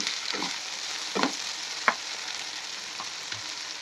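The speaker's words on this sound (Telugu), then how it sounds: "ఆనియన్స్ని రెండు నిమిషాలు లో ఫ్లేమ్లో పెట్టి వేయించుకోండి" Chopped onions and tomatoes fry in a pan for a fish curry, giving a steady close sizzle with a few soft stirring knocks and scrapes, with no talking.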